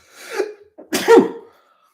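A single loud sneeze, with a short sharp inhale leading into an explosive burst, close to the listener and followed by silence.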